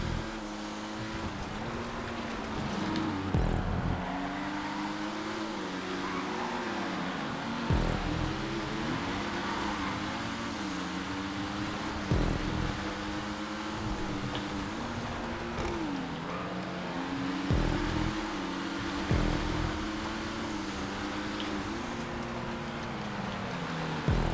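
A Pariah sports car races in GTA 5 with a steady engine drone that rises and dips through gear shifts and corners, with brief louder bursts every few seconds.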